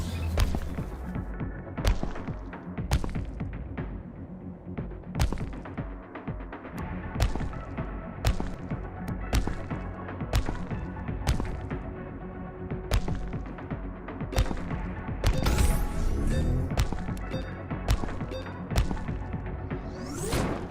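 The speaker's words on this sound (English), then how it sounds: "Time to watch it wreck my power grid." Heavy thuds, whooshing swipes and crashing impacts from a dragon smashing defensive walls and a power grid in the PC game Sky Cannoneer, repeated in an irregular barrage over a dense, continuous game soundtrack with no talking.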